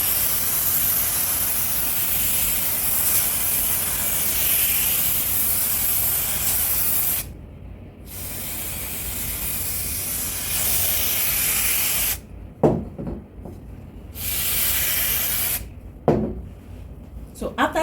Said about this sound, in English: I'm just going to spray it.